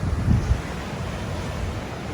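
Steady wind gusting across the seaside, a broad continuous rush with low buffeting thumps near the start, mixed with a faint surf-like wash and no voices.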